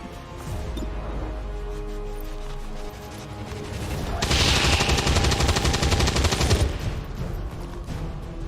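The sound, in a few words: gunfire in XCOM 2 video game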